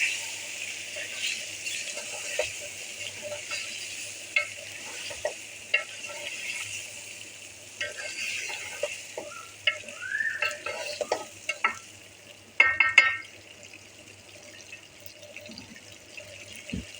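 Bottle gourd curry with green coriander being stirred in a pan, a steady scraping and sizzling texture running throughout, with a burst of louder clattering strokes near the end, close and without talk.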